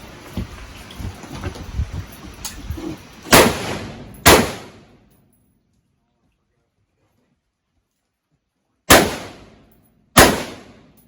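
Gunfire on an outdoor low light shooting course: four loud, sharp shots, two close together early and two more after a silent gap, with quiet murmuring and movement before the first pair.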